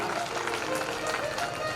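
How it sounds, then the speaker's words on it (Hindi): Audience clapping at a Shrimad Bhagavat Katha religious discourse in Rajgarh, Madhya Pradesh: a dense, steady wash of applause mixed with crowd murmur, filling the whole short stretch at even loudness. "एक बार जोरदार ताली"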